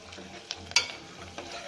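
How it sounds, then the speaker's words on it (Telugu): Coconut and broad bean curry fries in a pan with a light continuous sizzle, broken by a few soft stirring clinks and one sharper utensil tap near the middle. "లైట్గా ఫ్రై అవ్వనిస్తాం"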